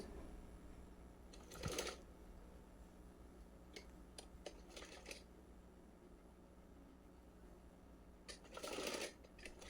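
A sewing machine stitches a band onto the bodice of a small cotton frock, running in a few short bursts separated by quiet pauses, faint and close with no talking.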